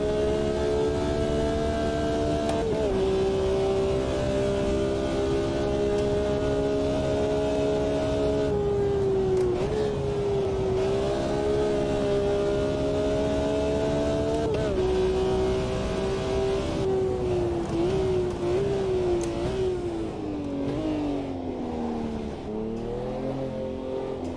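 Race car engine in a sim racing game holds a steady, loud tone through the whole stretch, rising and falling with throttle and gear changes, with brief dips under braking and a drop in pitch near the end.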